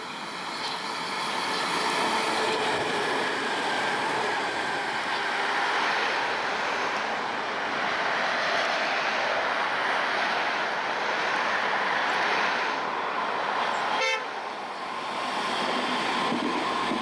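A DT1 subway train rumbles steadily nearby as it arrives on track 2 toward Langwasser Süd, a broad rolling roar that builds and holds throughout, with a brief high squeal partway through.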